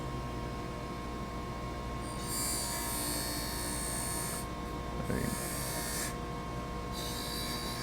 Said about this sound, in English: taking these blades, hitting them on a Scotch-Brite wheel, and softening the edges of them up